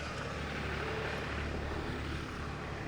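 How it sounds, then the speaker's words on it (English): A Ford Bronco Sport Badlands engine runs with a steady, close, fairly loud low drone and broadband hum, holding an even level throughout with no distinct cranking burst and no voices. "Let me actually start the car real quick"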